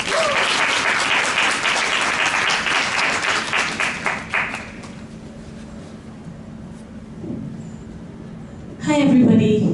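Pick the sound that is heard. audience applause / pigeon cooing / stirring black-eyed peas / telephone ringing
audience applause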